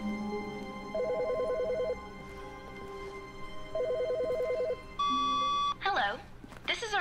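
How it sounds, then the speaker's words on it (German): A telephone rings in the video game The Stanley Parable, two bursts of rapid electronic trilling separated by a pause, followed by a steady tone and the start of a recorded voice message. "Ein Telefon."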